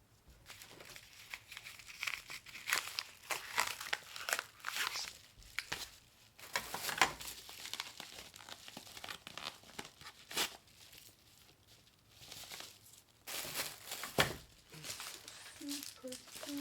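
Packaging material is crinkled and rustled up close while a shipping order is packed, with irregular bursts of crumpling and tearing at low to moderate volume.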